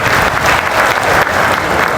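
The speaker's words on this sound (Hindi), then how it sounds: "इसके लिए भी जोरदार तालियों से मुख्यमंत्री जी का स्वागत करें।" A rally audience applauds loudly and steadily for the chief minister, a dense wash of clapping from a large crowd.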